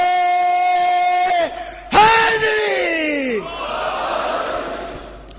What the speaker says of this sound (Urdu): نعرے